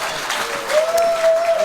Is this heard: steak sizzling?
no